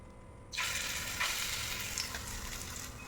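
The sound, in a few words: frying masoor dal fritters in a pan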